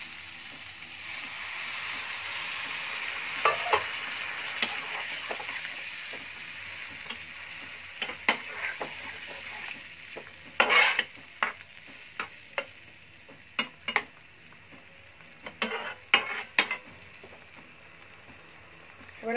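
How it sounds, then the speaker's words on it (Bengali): Spices being stir-fried and cooked down in a pan for a lotte (Bombay duck) fish curry, a steady soft sizzle broken by repeated sharp scrapes and clacks of a spatula against the pan, close and without talk. "এটাকে আমি 3 থেকে 4 মিনিট এখন কষাবো"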